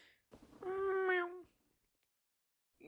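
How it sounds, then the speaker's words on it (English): A single cat meows in the video game Danganronpa: Desperate Heart 2: Infectious Devotion, one clear, drawn-out call about a second long, fairly quiet and alone. "Have you got a cat in that bag, Matilda?"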